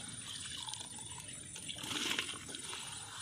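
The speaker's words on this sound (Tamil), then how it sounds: "தண்ணி கொதிச்சிருச்சு. இப்போ அரிசியை போட்டுக்கலாங்க." Rice is tipped into a pot of boiling water for fish biryani, a faint splashing and bubbling pour with a brief louder rush in the middle.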